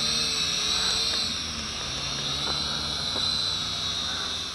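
A small Eachine E708 quadcopter drone, a Bugs 2 clone, hovers in beginner mode with a steady high-pitched motor and propeller whine that stays at an even, fairly close level throughout, with no talk.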